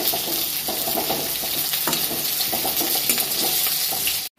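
Loud, steady sizzling of fish frying in hot oil, close up, crackling continuously before cutting off abruptly at the end.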